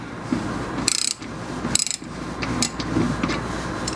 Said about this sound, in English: now that we've removed this tapered bolt from the oil pan